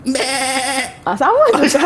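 A voice imitates a goat's bleat with a wavering, quavering tone for about a second, then another voice follows in a pitched, bleat-like way close to the microphone.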